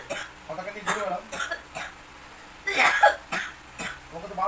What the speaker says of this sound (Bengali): কাশি হচ্ছে কিন্তু আমার।